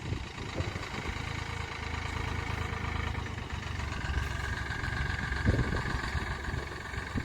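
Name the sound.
Farmtrac 60 tractor engine idling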